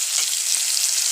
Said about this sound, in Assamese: এতিয়া মই পিয়াজখিনি ভালকৈ একদম ৰঙচুৱা হোৱাকৈ ভাজিম